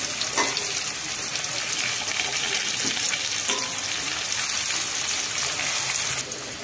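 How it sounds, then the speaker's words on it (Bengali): Potatoes for a Kolkata-style chicken biryani fry in a pan with a loud, steady hiss of hot oil, broken by a few light knocks as they are stirred; the sizzle stays close and continuous throughout. "তো আমার সবটা আলু উল্টানো হয়ে গেছে, এবার ভাজা হবে।"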